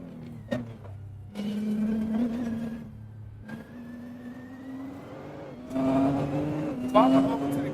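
A Nissan GT-R racing in Assetto Corsa, its engine droning and rising through gears with tire squeal, steady and close, while a voice talks over it.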